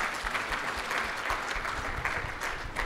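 An audience at a religious gathering claps for Jesus, a dense, steady wash of many hands that holds at an even level from start to finish.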